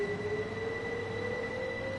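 A train pulling away in Train Sim World 4 on the East Coastway route, a steady rail hum with a sustained squealing tone and low rumble running continuously, with no voices.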